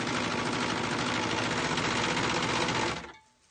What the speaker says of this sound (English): Hold on, I'm still serging.